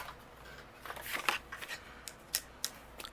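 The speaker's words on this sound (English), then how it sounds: "with this heart, I'm going to die cut this out with some white cardstock" A die-cutting machine rolls a heart die through white cardstock, giving a soft crinkly rasp with a few sharp clicks, fairly quiet and close, with no talking.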